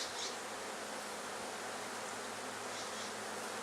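Bees swarm on tree limbs outdoors, a dense steady buzzing hum from many insects that carries at moderate level without break.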